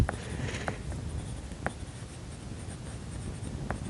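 A pen scratches steadily across paper while a small round character is drawn, making a close, continuous scratchy rasp with a few sharper strokes and no talk.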